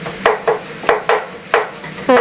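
A knife chopping vegetables on a board, about seven sharp, distinct cuts in an uneven rhythm, close and loud, with a quick knock at the end.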